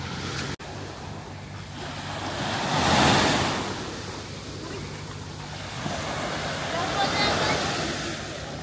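Sea waves roll onto the beach at Sihanoukville on a morning after a storm, a steady surf wash that swells and recedes under blustery wind noise on the microphone.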